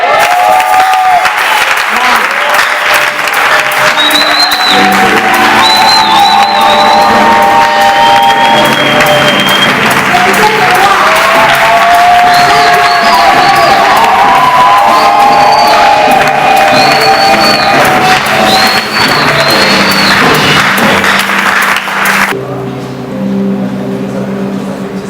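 Audience applause and cheering at a church show with a pastor, a dense sustained roar of clapping and shouting voices with whistles, loud throughout before suddenly dropping away near the end.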